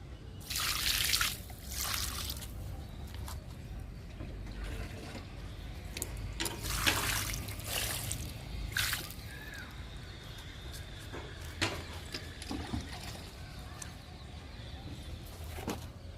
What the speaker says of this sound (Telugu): మల్లె మొక్కకి ఇస్తున్నానండి లిక్విడ్